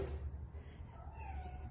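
A cat gives a single faint meow at the start, followed by quiet indoor room tone with a low hum, and no one speaking.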